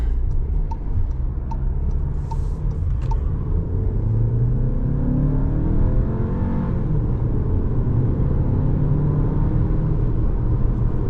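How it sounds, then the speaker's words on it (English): Exhaust note of a 2024 Volkswagen Tiguan S FWD with a 2-liter turbocharged four-cylinder, a loud, steady low rumble heard from inside while driving, with a few faint ticks early on and no talking. "Wonderful sound from that 4-cylinder, 2-liter turbocharged engine."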